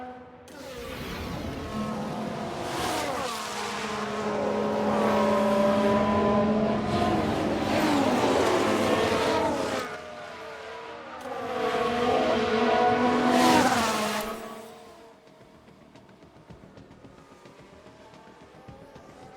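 Formula 1 race cars in the F1 Manager 22 video game, set in a 1992 season with Ferrari, rev and scream past in two loud surging waves, engines rising and falling, then fading to a faint distant hum.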